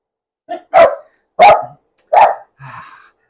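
Dogs bark indoors, three sharp, loud barks spaced roughly half a second apart, followed by a softer, fading yip, all close with silence between.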